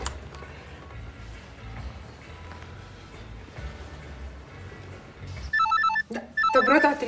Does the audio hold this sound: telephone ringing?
yes